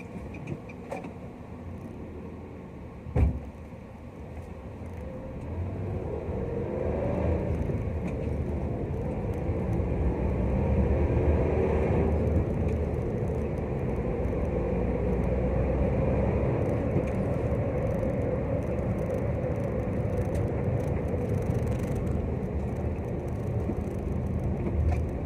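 Steady tyre and road roar from inside a Nissan Almera cruising at 60 to 80 km/h while checking for a rear wheel bearing fault, a continuous rumbling drone with one brief knock early on.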